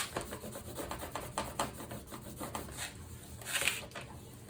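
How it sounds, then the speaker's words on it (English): A bone folder burnishes paper flat on a mini album page, giving repeated close scraping rubs in a quick back-and-forth rhythm, with no talking. "Then I'm going to use my bone folder to burnish this down."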